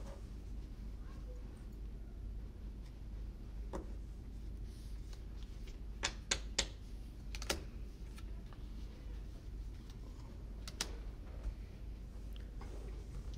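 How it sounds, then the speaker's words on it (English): Playing cards are shuffled or dealt for a game of cribbage, giving quiet scattered ticks and a few sharp snapping flicks over soft room hiss, with no talk during the sequence. "Is that dealing or shuffling? Dealing out the cards?"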